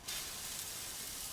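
A hot dosa griddle gives off a soft, steady sizzling hiss, faint and brief, with no voices.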